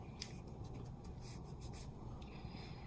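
Tape being burnished firmly down onto a plate for plaid Peter Rabbit reverse decoupage, a faint continuous rubbing and scraping with short brighter strokes, steady and close.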